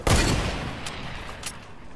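Gunfire in a shooter video game, a loud close burst of rapid shots at the start that fades into a rumbling decay with a couple of fainter follow-up cracks.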